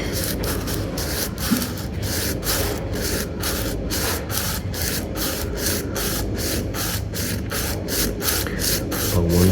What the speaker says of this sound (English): I'm just gonna try to sand it down by hand.